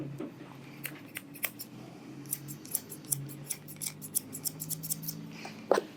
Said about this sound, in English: I will now do shear over comb to blend the top into the sides